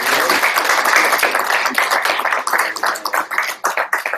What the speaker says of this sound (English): So, round of applause for that passes.